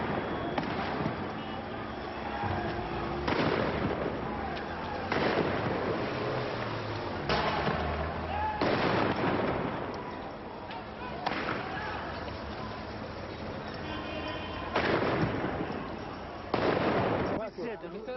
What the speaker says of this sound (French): La police tire des billes et des balles en caoutchouc sur des manifestants